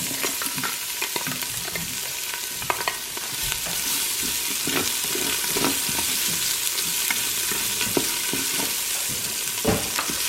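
Chopped onions fry in an Instant Pot, giving a steady, close sizzle with scraping stirring noises throughout and no talking.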